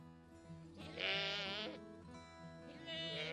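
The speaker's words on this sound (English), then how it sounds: "There's even a friendly flock of Jacob sheep." Jacob sheep on a Devon countryside farm bleat in two drawn-out, wavering calls separated by a short pause, moderately near against a quiet outdoor background.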